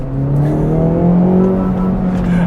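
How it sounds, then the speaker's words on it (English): A 2024 Acura Integra Type-S pulls away from a traffic light under hard throttle, its engine note climbing steadily in pitch, loud and close from inside the cabin, with no talking. "as we leave the light, I'm gonna go ahead and kind of wait and pin it just a touch."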